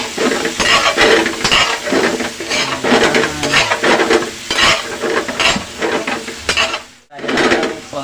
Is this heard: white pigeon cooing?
no